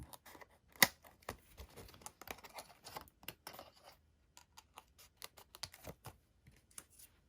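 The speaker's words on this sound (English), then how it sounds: "grab your super sharp scissors and cut off this window sheet that's hanging off right here." Sharp scissors snip through a clear plastic window sheet on a shaker card, a quiet sequence of irregular crisp clicks and small cuts close to the microphone, otherwise nearly silent.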